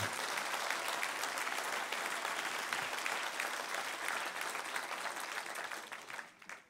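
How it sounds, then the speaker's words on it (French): Sustained, even applause fills a hall in Les Herbiers during a New Year's wishes ceremony as the audience honours football coach Stéphane Massala, dense and continuous before tapering off at the very end. "je salue dans la salle l'entraîneur Stéphane Massala qui nous fait l'amitié et l'honneur d'être avec nous et on peut l'applaudir"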